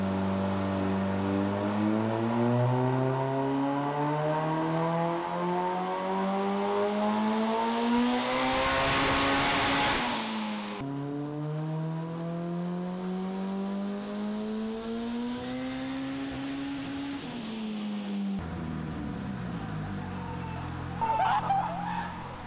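A tuned car engine running on nitrous revs hard and loud, pitch sweeping up and down through repeated pulls with a brief drop mid-way, heard up close with no talking.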